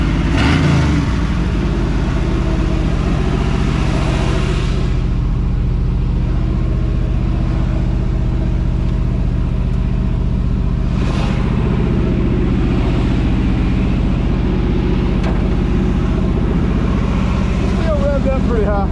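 A 1979 Chevrolet Squarebody with a 350 cubic inch engine revs high and steady while power braked, a loud continuous low drone with fluctuating pitch and voices talking over it.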